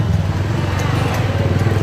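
A motorcycle with a loud aftermarket exhaust runs steadily nearby, a dense throbbing engine drone with rapid pulsing, close and loud throughout, with faint voices in the background.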